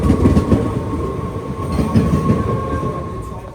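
A train rolls past close by at a station in the Netherlands, a loud steady rumble with rhythmic wheel clatter and a sustained tonal whine, running continuously with no talk.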